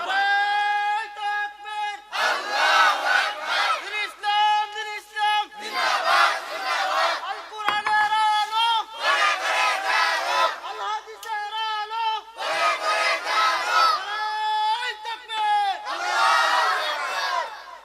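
Crowd at a religious sermon gathering chanting Nara-e-Takbir Allahu Akbar, loud rhythmic bursts of massed voices alternating with a lone leading voice, repeated several times.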